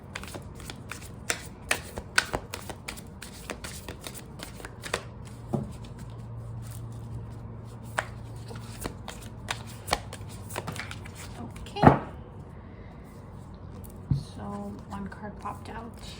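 Moonology oracle cards shuffled by hand, a soft, steady papery riffle with scattered small taps and one sharper snap of cards near the end, while a person talks over it.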